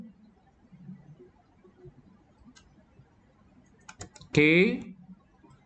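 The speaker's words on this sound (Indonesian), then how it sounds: "ini kita ketikkan kode programnya Z sama dengan X kali Y" Program code is typed on a computer keyboard: a few sparse, quiet key clicks in a mostly hushed room, with a brief stretch of talking near the end.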